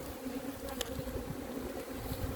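Honey bees buzz around an open summer beehive, a steady close drone broken by a few faint knocks and clicks of hive handling, with no talking.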